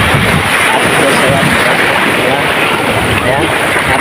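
Ocean waves roll in at a surfing beach in San Juan, La Union, in a loud, constant wash with heavy wind buffeting the microphone.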